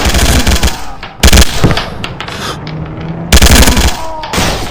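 Loud bursts of automatic gunfire from a shooting video game, rapid rattling volleys at the start, around one second and near the end, with quieter clatter between them.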